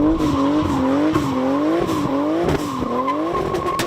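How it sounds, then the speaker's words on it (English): A 2JZ-swapped Nissan 240SX with a 3071 turbo spins its tires under full boost, producing a loud, continuous wavering squeal that rises and dips in repeated sweeps over the roaring engine, with no talking. "It's incredibly violent, and it spins tires immediately."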